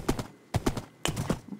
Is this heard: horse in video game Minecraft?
yes